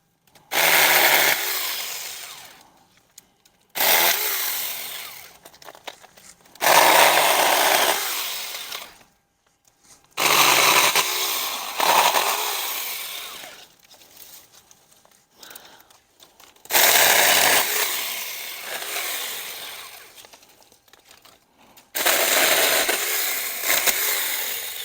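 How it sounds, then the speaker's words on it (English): A Saker 4-inch mini cordless 20V chainsaw cutting through dead, unstable branches, its loud whine starting and stopping in about six bursts of a few seconds each, with short silent gaps between cuts. "When you try to go ahead and hold the chainsaw to it, you will get a lot of vibration just because it's not a very stable branch."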